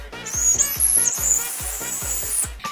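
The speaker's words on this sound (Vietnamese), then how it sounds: "Nghe tiếng sáo vang lên rộn ràng từng miếng kẹo" A whistle candy blown like a flute gives shrill, wavering high whistles that sound almost continuously above a steady thumping beat.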